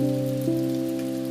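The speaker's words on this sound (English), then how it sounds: "feel the rain" Steady rain patters softly beneath a sustained, humming tonal drone that dominates throughout, with no voices.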